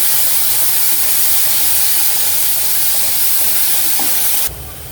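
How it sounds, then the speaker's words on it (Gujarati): Onions frying in oil in a pan until brown, for street-style ragda patties: a loud, steady, hissing sizzle runs unbroken, then thins abruptly just before the end. "ડુંગળી થોડી બ્રાઉન થવા દઈશું"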